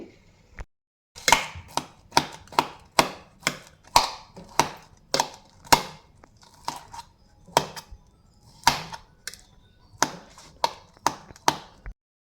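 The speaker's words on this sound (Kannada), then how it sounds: "ಸೊ ಈ ಥರ ಸ್ಮ್ಯಾಶರಿಂದ ಈಸಿಯಾಗಿ ಈ ಥರ ಸ್ಮ್ಯಾಶ್ ಮಾಡ್ಕೊಳ್ಳಿ" Boiled potatoes, cut up while still hot, are mashed with a hand masher for a pani puri filling. The masher thumps and clacks in a steady rhythm, each stroke sharp and distinct, with no voices.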